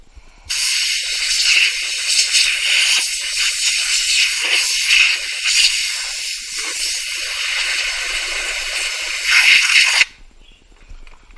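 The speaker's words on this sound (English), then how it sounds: "I'm going to use the compressor just to make sure that we've got everything pretty clear here" A continuous, loud hiss of air from a compressor nozzle blows dust off a guitar body being stained. It starts abruptly, holds steady for about ten seconds with slight surges, then cuts off.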